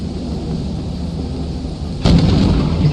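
A sudden loud lightning strike in the video game Lethal Company lands as a broad thunder crack that swells over steady background rumble and stays loud to the end, no talk.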